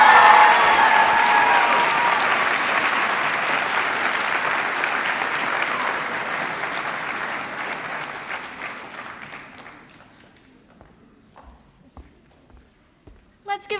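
Loud applause in a high school graduation hall after a student speaker, fading gradually over about ten seconds into quiet with scattered claps, faint footsteps and a brief voice near the end.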